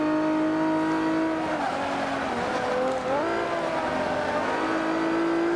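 A-Class race car in Forza Motorsport 5 holds a loud, steady high engine whine with a brief dip and recovery in pitch mid-run, plus faint tire noise, close and continuous without speech.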